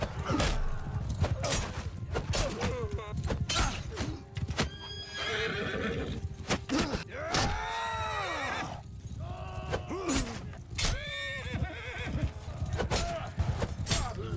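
Horses of mounted horse archers in a Bannerlord video game battle, with repeated loud neighs and whinnies over steady clip-clopping hooves and battle clatter, several whinnies rising and falling one after another amid the din.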